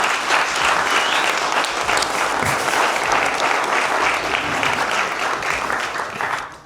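Loud, sustained audience applause at a Women of the Year awards ceremony, a thick wash of clapping that holds steady and then fades out at the end.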